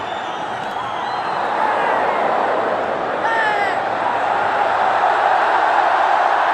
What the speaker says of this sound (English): Well, it's a very noisy crowd.